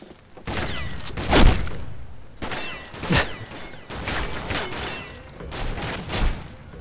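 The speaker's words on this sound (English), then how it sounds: "Well, Halloween shotgun." A Halloween shotgun fires in the video game Combat Arms, several sharp booming blasts at irregular intervals with softer game noises between them.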